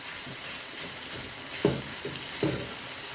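Food with salt and pepper sautéing in a pan, a soft steady sizzle underneath, punctuated by a few louder scraping stirs and clatters of a utensil.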